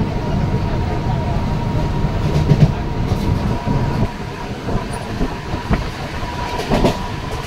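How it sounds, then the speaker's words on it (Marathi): A moving local train clatters steadily along the rails on the suburban line past Kalyan toward Karjat, a continuous rumbling carriage noise with rhythmic clicks, heard from inside the coach. "पण कल्याणपासून ट्रेन स्लो होते ना."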